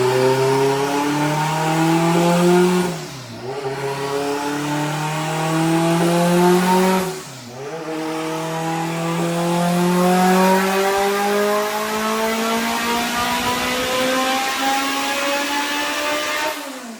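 A 700hp all-wheel-drive Honda Civic strapped down on a dyno revs hard at about 12 to 13 pounds of boost, climbing through three long pulls with brief drops between them, loud, close and continuous.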